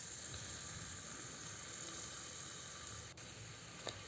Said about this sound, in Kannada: ಒಂದು 2 ನಿಮಿಷ ಫ್ರೈ ಮಾಡಿದ ನಂತರ ಸ್ವಲ್ಪ ಶುಂಠಿ ಬೆಳ್ಳುಳ್ಳಿ ಪೇಸ್ಟ್ ಕೂಡ ಆ್ಯಡ್ ಮಾಡ್ಕೊತೀನಿ